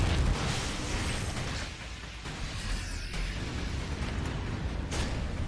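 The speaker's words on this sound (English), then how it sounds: "Nuclear missile lands." Nuclear missile explosion in StarCraft 2, a loud rumbling blast with low booming and crackling debris that rolls on for several seconds before easing slightly.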